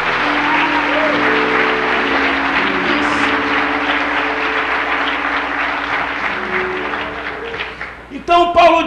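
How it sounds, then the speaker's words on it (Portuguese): Church congregation applauding God during an evening sermon, broad sustained clapping with a sustained musical drone under it, fading toward the end before a brief louder burst. "Força o aplauso ao Eterno nessa noite."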